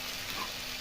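Potatoes and spices for a vegetarian Bengali dum aloo sauté in a pan, giving a soft, steady sizzling hiss for under a second, faint and even, with no talking.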